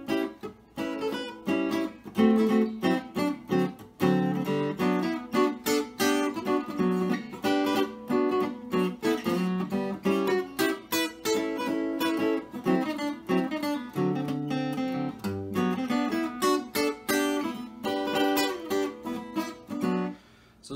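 A solo jazz guitar plays swing chord-melody in the Van Epps method on a standard, with full, ringing chords moving continuously and with no talking.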